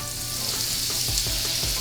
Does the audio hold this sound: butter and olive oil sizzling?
yes